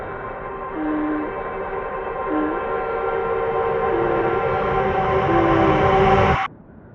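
A train gives off a steady, loud, droning rumble with a sustained tonal hum that slowly swells. It cuts off abruptly near the end, leaving a quiet background.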